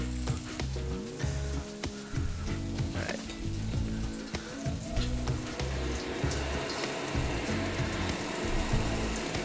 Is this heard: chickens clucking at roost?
no